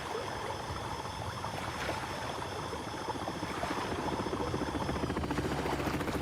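In The Last Caretaker, a crashed helicopter sits in water with its engine still running, giving a loud, steady rotor chop and engine drone that builds slightly toward the end.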